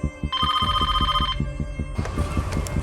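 Telephone ringing indoors with a warbling electronic ring in a burst lasting about a second, over a steady throbbing rhythmic pulse. A busier, noisier passage follows.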